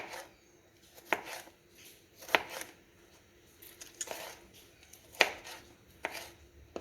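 A tomato being chopped with a knife on a board, a handful of distinct crisp cuts spaced unevenly about a second apart, close and clear against a quiet kitchen with no voices.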